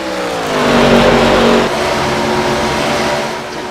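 Race car engine in iRacing during an ARCA Menards Series race at Texas, a loud, steady roar holding high revs and swelling briefly as the car passes, with no talk over it.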